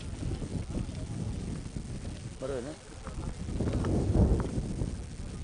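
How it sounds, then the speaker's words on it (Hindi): Strong wind rushes across an outdoor cricket ground during a tournament match, buffeting the microphone in steady gusts that swell toward the end under a commentator's voice. "तेजी से हवा चलती हुई मैदान के अंदर"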